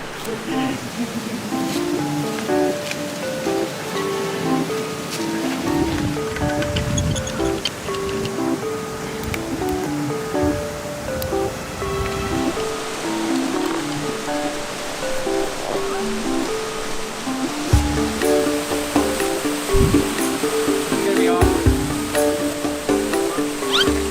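Water rushes steadily through a river beside a deep pool, a continuous loud wash and churn with occasional splashes close by.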